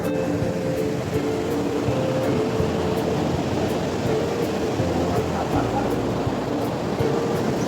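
Ocean surf on a Bali shoreline, a continuous broadband wash of waves with steady rumble and no clear gaps, fairly loud and close.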